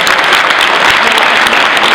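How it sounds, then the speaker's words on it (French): A crowd at a political campaign rally in Pérols claps in a thick, loud, continuous burst of applause with no pauses. "Bravo, bravo, on peut les applaudir bien fort."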